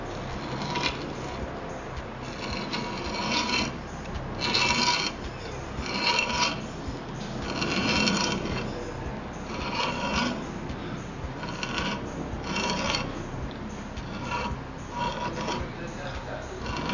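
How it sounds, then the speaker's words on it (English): A thread tap cuts into a Mercedes-Benz king pin bushing, giving rhythmic rasping bursts repeated roughly every second or two, close and moderate, with someone talking over parts of it. "We're going to start by using a tap to go in here and put some threads in the bushing."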